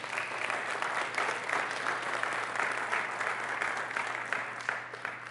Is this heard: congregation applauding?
yes